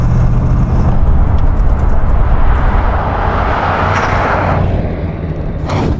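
A 1964 Chevrolet Corvette C2 Sting-Ray drives into a workshop, its engine a loud, steady low rumble that swells and eases slightly, with a brief higher whoosh near the end.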